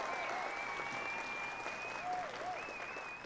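Audience applause and clapping for a football podcast host, a steady, fairly dense patter lasting a few seconds with whistling tones and voices mixed in.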